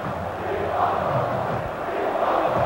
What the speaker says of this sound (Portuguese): A torcida grita o nome dele.